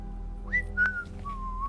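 A person whistles a short, clear tune of a few sliding notes, close and alone against a low steady hum.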